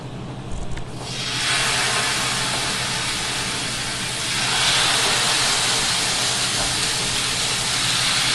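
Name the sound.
salmon sizzling as it cooks in the pan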